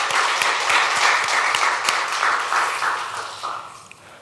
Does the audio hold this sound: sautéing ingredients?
no